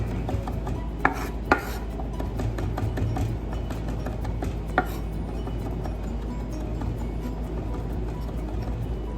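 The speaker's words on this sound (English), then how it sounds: "And same thing. Chop, chop, chop." A knife chops fresh herbs such as oregano and dill on a cutting board, with a few sharp, separate knocks among softer, quieter cutting sounds, alone and without talk.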